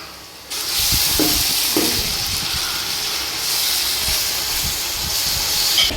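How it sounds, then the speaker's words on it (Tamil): Ginger garlic paste dropped into a pan of frying onions for a curry: a loud hissing sizzle bursts in and stays steady and close, with a few faint clinks underneath. "இஞ்சி பூண்டு பேஸ்ட் போட்டுக்கலாம்."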